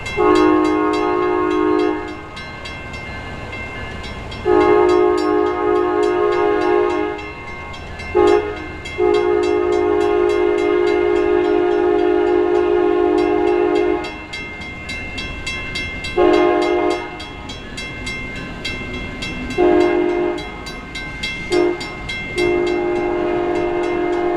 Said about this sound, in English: Amtrak P371 departs Holland